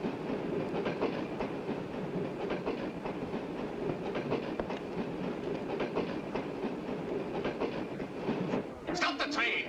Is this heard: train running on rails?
yes